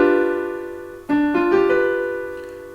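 A dominant seventh chord sounds in second inversion with Re in the bass, struck once after a brief lead-in note and then shifting slightly as it rings and slowly decays, with no talking.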